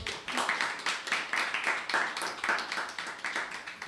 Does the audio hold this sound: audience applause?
yes